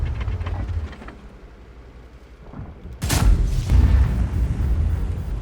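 A tank cannon fires in the World of Tanks video game, a sudden loud blast at the midpoint that rolls into heavy rumbling and mechanical clatter, following a stretch of quieter engine drone.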